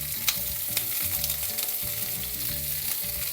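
Chile sizzling and frying in a hot pan for a Mexican beef stew, a steady loud crackle with bursts of stirring, no voices.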